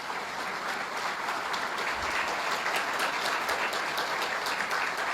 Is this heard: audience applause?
yes